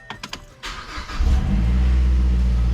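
A Mazdaspeed3 is started with the key: a few quick clicks, a short crank, then the engine catches and settles into a loud, steady idle close by.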